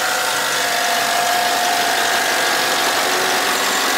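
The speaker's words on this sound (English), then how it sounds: "got the engine running now. It's very clean, smooth." A Cadillac Escalade engine idles steadily and smoothly, a loud, even mechanical hum with a constant low drone and no revving throughout.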